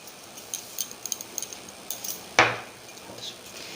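A metal spoon clicks lightly several times against a bowl while arrowroot goes into a fish pakora mixture, followed by one sharper, louder clink near the end; no talking.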